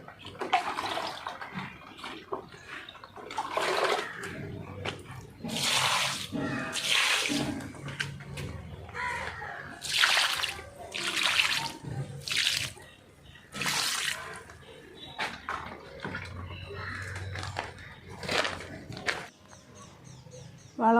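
Water poured onto garden plants at a small farm, in repeated splashing gushes of varying length with short pauses between them, fairly close, with faint birdsong and occasional speech in the background.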